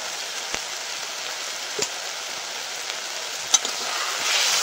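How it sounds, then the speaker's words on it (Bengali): A spice paste of turmeric, salt, chili powder and coriander powder sizzles while frying in a pan, a steady soft hiss broken by occasional sharp pops and crackles, with no voices. "মশলাটা ভালো করে কষিয়ে নেব।"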